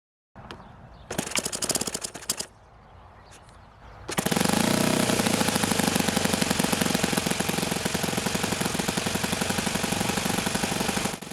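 An OS FS-91 Surpass four-stroke model engine sputters briefly with a knocking idle, then catches and runs loud and steady at a rapid buzzing rhythm for the rest of the clip.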